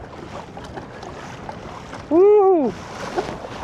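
Wind buffets a fishing boat out on the water, a steady broad rushing roar that runs throughout, briefly broken by a person's loud whooping shout.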